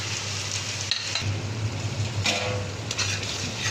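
Garlic-cumin paste, salt, coriander powder and tomatoes sauté in a pan with a steady close sizzle, joined by scraping stir strokes midway.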